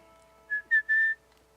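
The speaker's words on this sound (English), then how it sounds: "This is a fun one for you to whistle on." A person whistles a short tune alone, three clear, fairly loud notes, the last one held longest, over a faint steady background hum.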